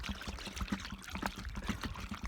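Water is poured into a mole hole in a winter garden, giving a close uneven gurgling splash with irregular pulses as it drains into the soil.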